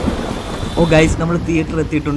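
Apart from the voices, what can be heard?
heavy rain and thunder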